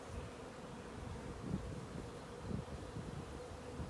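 Honey bees swarm around an open hive during a spring inspection, giving a faint, steady low drone with soft rustling, no voices over it.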